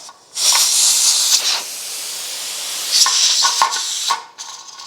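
Weighted-gauge pressure canner venting steam: loud, bright hissing bursts as the 15-pound weight jiggles, a long rush followed by a pause and then a cluster of shorter hisses.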